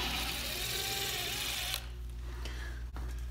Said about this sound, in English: I'm gonna remove the screw that the installer put in.